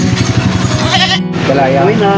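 A goat bleats repeatedly at close range, in loud, wavering cries, while people talk over it in a rural provincial setting.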